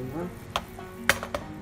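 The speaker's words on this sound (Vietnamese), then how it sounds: "mình sẽ lắc đều cái chảo gì nha, cho được đường" Caramelizing sugar in a frying pan being shaken, with a few soft scraping and sizzling swishes and light clinks spaced over a second and a half, close and fairly quiet, no voices.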